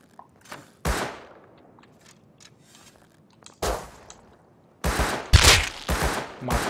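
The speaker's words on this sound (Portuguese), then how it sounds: "Acertei dois tiros lindos aqui no maldito." Gunfire rings out in the survival game Rust, with sharp, loud shots in irregular bursts: a single crack, a pause with faint distant pops and shuffling, then a rapid cluster of several close shots.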